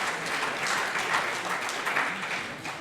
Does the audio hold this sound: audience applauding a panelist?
yes